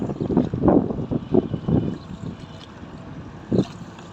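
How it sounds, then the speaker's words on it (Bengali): A boat travels on the Buriganga river, with irregular splashing and sloshing bursts of water and a breezy rumble, louder in the first two seconds and then calmer. "আমি নৌকা দিয়ে বাসায় গেতেছি"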